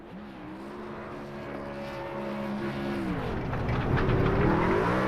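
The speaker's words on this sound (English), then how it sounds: "Whipping the burnouts here at Lime Rock." Race trucks rev hard and spin through burnouts at Lime Rock Park, a loud, close, sustained engine roar whose pitch rises, holds and swoops as the throttle climbs, with no talk over it.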